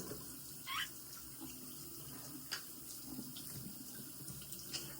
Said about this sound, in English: I'm about to brush my teeth and wash my face.